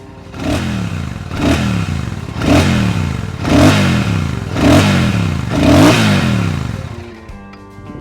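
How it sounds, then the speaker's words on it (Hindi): Royal Enfield Bullet 650 parallel-twin engine revved repeatedly, six rising and falling exhaust blips at a steady pace, loud and close, settling back to idle at the end. "ऑल्दो इस इंजन का एग्जॉस्ट नोट आप पहले भी दूसरी बाइक्स में सुन चुके होंगे"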